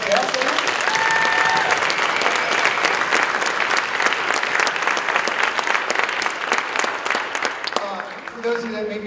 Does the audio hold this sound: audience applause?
yes